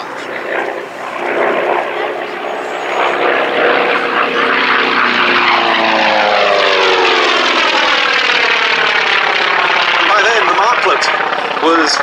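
The piston engines of a Catalina flying boat drone loud and close at the Duxford air show, a throbbing propeller roar that swells and shifts pitch as the aircraft passes.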